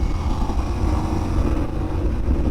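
A KTM 1390 Super Duke R motorcycle engine runs on a track lap, a steady loud low drone holding throughout with no clear revving peaks.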